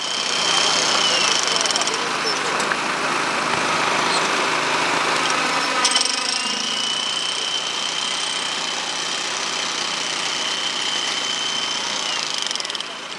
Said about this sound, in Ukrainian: власноруч демонтують бруківку лопатами, сокирами та відбійними молотками